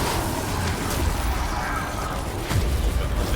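Explosions in the video game The First Descendant, a steady wash of rumbling booms and bursts, loud and continuous, with a sharper blast near the end.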